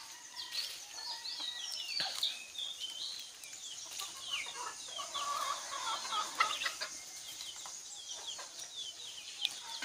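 Free-range chickens on a farm in Bangladesh cluck steadily throughout, several birds calling close by with overlapping clucks and short squawks.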